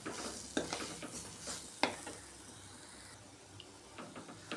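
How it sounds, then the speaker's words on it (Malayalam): Spice powders fry in oil for a fish pollichathu while being stirred, giving a quiet, gentle sizzle broken by a few soft spoon scrapes. "നന്നായിട്ടൊന്ന് ഇളക്കി കൊടുക്കാം"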